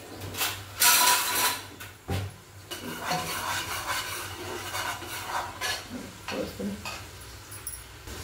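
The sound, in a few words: ground masala being fried and stirred in oil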